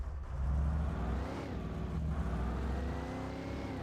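A car driven in the video game Alan Wake, its engine droning steadily and loud throughout with slight revving shifts in pitch, no voices over it.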